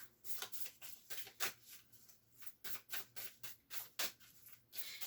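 Oracle cards being shuffled by hand in bursts of soft, papery riffles and slaps that come in a quick, irregular rhythm, close and fairly quiet, with no talking over them.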